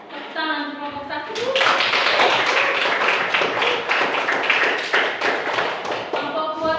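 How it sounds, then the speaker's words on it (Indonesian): Classroom applause for a student group, brisk clapping from a room of pupils following a brief voice, lasting several seconds with uneven hand claps and a few thumps. "Tepuk tangan kelompok 1."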